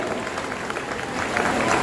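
An audience applauds during the lamp-lighting at a foundation-stone ceremony for a Kedarnath Dham temple in Delhi, a steady wash of clapping that swells slightly toward the end.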